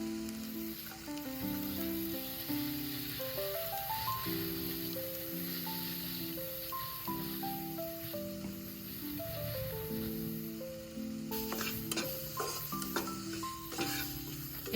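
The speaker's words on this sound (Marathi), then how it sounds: "तेलामध्ये थोडंसं फ्राय करून घ्यायचंय" Carrot, onion and tomato paste sizzle steadily in hot oil, a continuous close frying hiss running beneath louder melodic background music throughout.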